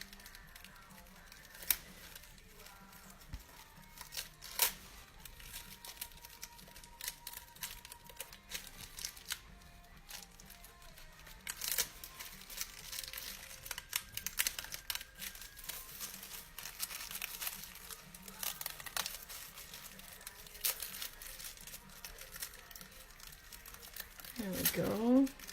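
Paper slowly ripped and pulled back during a card-making craft session, giving a long stretch of soft crinkling, tearing and rustling of varying intensity, close and fairly faint, while a person talks.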